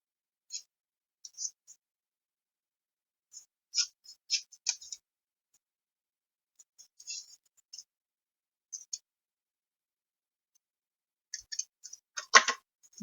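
Paper being cut with scissors for a handmade La Traviata mini album, heard as sparse, faint snips and ticks scattered across the quiet, with a louder cluster of cuts near the end.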